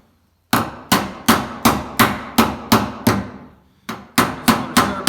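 A hammer strikes a sheet-metal rear fender in a steady series of sharp, ringing blows, about a dozen close and loud hits with a brief pause partway through, no voices.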